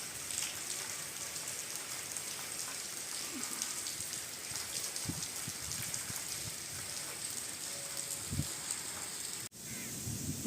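Steady rain patters down across the whole stretch, a dense even hiss with a few louder drops and knocks nearby, no talking.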